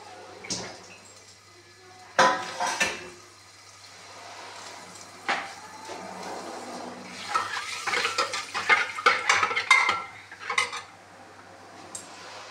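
Small, thinly diced potatoes are tipped into a pan for children's Maggi noodles and stirred. A spoon scrapes and clatters against the pan in uneven bursts, with a faint sizzle between them.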